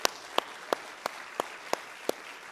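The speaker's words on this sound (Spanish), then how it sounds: "Un fuerte aplauso para el Señor." Seven evenly spaced sharp claps ring out about every third of a second, like a single steady rhythmic clap at a church service, distinct and fairly close against a quiet background.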